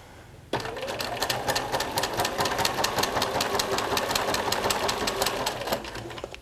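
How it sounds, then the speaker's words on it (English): Sewing machine stitching a fabric notebook cover, starting abruptly into a fast, even mechanical whirring rattle of needle strokes that runs for several seconds, close and clear, then slows and stops near the end. "place your foot back down again and keep sewing"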